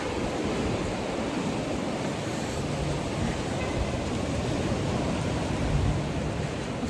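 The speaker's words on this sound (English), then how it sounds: "Y'all hear the waves?" Steady surf of ocean waves washing onto a beach beside a boardwalk, a continuous broad roar with light wind noise on the microphone and no talking.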